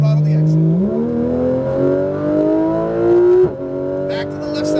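A car on a race track accelerates to full throttle out of a corner, its engine note climbing loudly and continuously before a brief shift, heard from inside the cabin.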